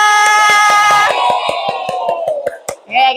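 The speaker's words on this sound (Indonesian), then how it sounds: "tepuk tangan untuk semuanya" A class claps in a fast, even rhythm, sharp close claps at steady intervals over a sustained tonal background, with a brief louder burst at the end.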